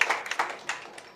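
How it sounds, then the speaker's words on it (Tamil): Brief scattered hand claps from a small audience at an album launch, a handful of sharp irregular claps fading over about a second, no talking. "ஒரு பலத்த கைத்தட்டல் கொடுத்துடலாம் நம்மளோட எடிட்டருக்காக"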